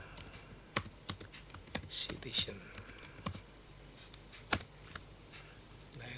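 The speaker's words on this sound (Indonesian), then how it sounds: "dengan mengetik keywordnya" Computer keyboard typing while entering a search keyword in Microsoft Sway: a sparse run of sharp, close key clicks with uneven pauses, under a voice speaking quietly.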